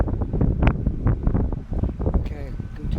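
Gusty wind buffets the microphone with loud rumbling bursts, partly masking a voice that speaks throughout.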